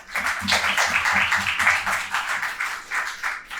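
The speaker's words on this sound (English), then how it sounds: "So please give him a round of applause as well." A live audience at a panel event on Black funding breaks into a round of applause, steady dense clapping filling the room throughout, moderately loud and close, with no talk over it.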